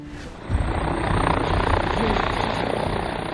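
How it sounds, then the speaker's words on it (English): AW-129 Mangusta attack helicopter flying, a loud, steady rotor and turbine roar that swells in after a brief quieter opening and holds throughout. "The AW-129 is Italy's primary multi-role helicopter and can be equipped for a wide variety of combat missions"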